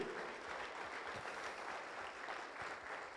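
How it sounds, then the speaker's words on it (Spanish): A church congregation applauds during a Spanish-language service, a soft, distant, even wash of clapping that holds steady throughout at low volume. "dele una ofrenda de palmas al rey"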